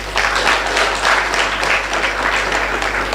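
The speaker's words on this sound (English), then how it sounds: "Let's clap for the Prof." Conference audience clapping for a professor at a scientific conference, a steady dense wash of applause that stays near and loud throughout the brief moment.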